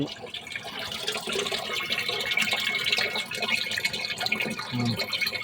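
Water overflowing from a full tank and pouring steadily down out of its overflow pipe during plumbing work at a SIPCOT site in Cuddalore, a continuous broadband rush with no talk over it.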